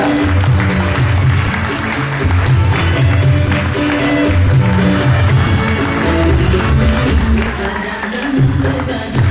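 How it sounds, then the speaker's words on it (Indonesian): Audience applause greeting a guest star at a motivational seminar talk show, steady clapping filling the room at full volume with a low rumbling crowd layer underneath. "mari kita dengan tepuk tangan yang sangat meriah kita sambut saja bintang tamu kita berikutnya"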